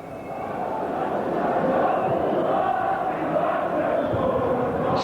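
Blackpool football fans in a stadium crowd during a 1989/90 match against Birmingham raise a broad, sustained roar of cheering that holds steady at full volume, with a commentator's voice over it.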